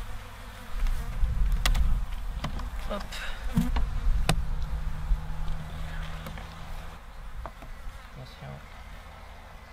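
Honeybees hum in a dense, continuous buzz around an opened apiary hive during a spring inspection, with close handling knocks and brief speech over the swarm.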